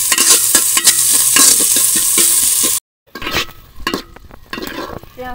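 Chopped onions with cumin seeds and a little salt sizzle loudly in a pot for one-pot chicken khichuri, stirred with clinking scrapes. The sound cuts out briefly midway, then returns more unevenly.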